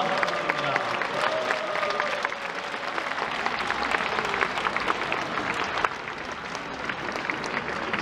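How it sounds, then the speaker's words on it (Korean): Audience applause at a Southern California joint choir festival, welcoming a church choir from Arizona; steady, sustained clapping from a large crowd, fairly close and continuous across the whole stretch with a faint voice briefly under it. "박수 한번!"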